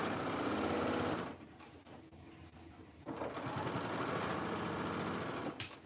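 A sewing machine stitching the side seam of a plus-size fall wedding guest dress, running in a fast, steady whirring burst, pausing briefly, then stitching again close and clear.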